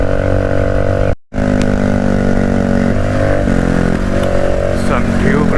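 A loud Bajaj Dominar 400 exhaust drones close up on a highway ride, holding a steady throaty note with a short cutout and shifting pitch as it pulls, while a rider talks over it.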